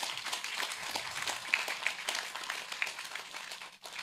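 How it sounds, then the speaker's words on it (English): Audience at the Veterans Drive Phase 1 ceremony applauding, a fairly faint, distant patter of many hands clapping with a few sharper individual claps, thinning out toward the end. "Give them a round of applause,"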